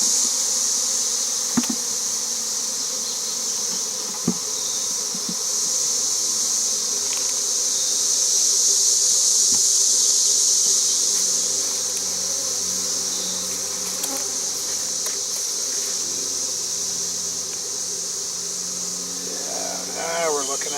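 Honey bees buzz in a dense, steady drone while fanning at the hive during a colony transfer, close and continuous, swelling slightly midway.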